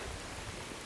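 Steady broadband hiss of rain falling outdoors, a dense, even wash of drops close by with no voices, matching a downpour heavy enough to leave puddles on the ground.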